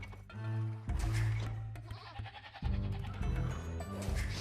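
Sheep in a strategy video game bleat several times in short, wavering calls, fairly loud, over a steady low in-game hum and faint background clicks.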